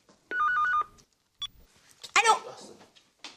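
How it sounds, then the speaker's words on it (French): Indoor telephone gives a short electronic ring burst, then a brief second chirp, followed by rustling and handling noises at close range. "Téléphone."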